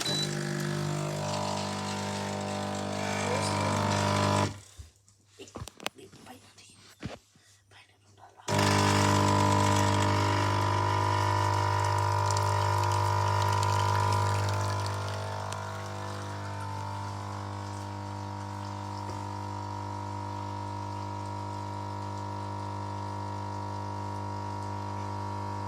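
A Smith n Nobel espresso machine hums loudly as it pumps, with a steady droning buzz that stops briefly for a few seconds of quieter clicks, then returns and runs on continuously.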